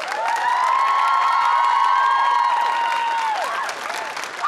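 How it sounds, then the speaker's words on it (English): A crowd applauds and cheers after a youth choir performance in Newfoundland and Labrador. Steady clapping fills the space while a long, sustained whoop rides above it near the end. "Ladies and gentlemen, another big round of applause for Kat McCleavey"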